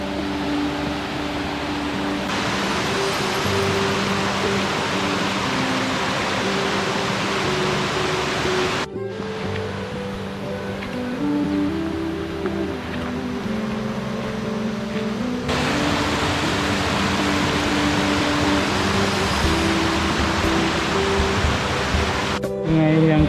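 Steady, loud rush of a river stream crossed on a mountain hike up Gunung Bawang Siri via Desa Madi, a broadband wash filling the whole stretch with brief dips in level and no clear talk over it.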